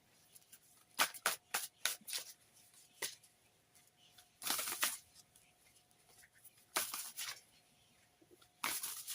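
A tarot deck is shuffled by hand in several quick bursts of riffling and snapping cards, separated by short quiet gaps, close and clear with no talking.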